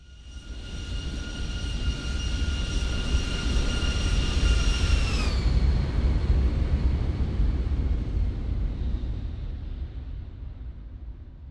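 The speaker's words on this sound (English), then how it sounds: "smooth center-line landing, perfect and good landed" Boeing 737-800 touching down and rolling along a runway in a flight simulator, steady loud engine roar with a high whine that drops sharply partway through, then a continuous rumbling rollout fading slightly at the end.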